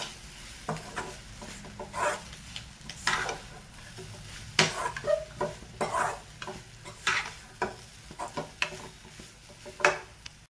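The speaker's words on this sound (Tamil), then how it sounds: "ஃபைனலாக பெப்பர் பவுடர் மிக்ஸ் பண்ணிட்டு நல்லா மிக்ஸ் பண்ணிக்கணும்" Leftover chapati noodles stirred with pepper powder in a pan, a spoon scraping and turning them in repeated sweeps over a soft sizzle, close and fairly quiet.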